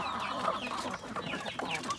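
Large chickens on a range cluck repeatedly in a busy, overlapping chatter, fairly soft and continuous with scattered sharper calls.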